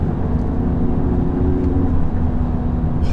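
A 2008 Audi TTS engine drones loud and close from inside the car while driving. The low, throaty rumble is steady and sustained, with no distinct rev peaks.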